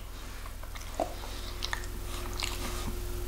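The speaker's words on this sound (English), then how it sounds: "That crunch is really good." Crunchy chewing of a donut topped with real pistachio, a quiet, close bite and soft crunching mouth sounds over a steady background hum, with no talk.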